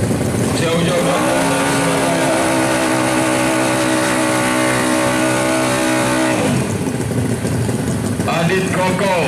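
A 200cc scooter drag bike roars away from close by, its engine climbing steadily in pitch through a long loud rev before cutting off sharply, then settling into a rougher, lower engine rumble.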